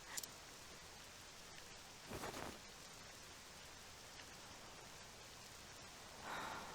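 Steady rain falling in the video game Octopath Traveler II, a continuous broadband hiss with a brief louder gust in the middle and another swell near the end, no voices.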